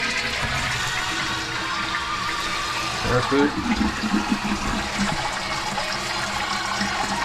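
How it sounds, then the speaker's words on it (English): A toilet flushes after a repair of its flange and seals, a steady rush of draining water followed by trickling and refilling, with a person speaking briefly over it. "All right, here we go again. Flush."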